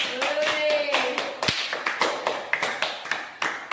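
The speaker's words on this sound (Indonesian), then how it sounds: "Kasih aplaus buat dulu." Classroom applause breaks out for a student during a biology lesson, with brisk, uneven hand claps that start dense and then thin into scattered separate claps. A brief voice is heard near the start.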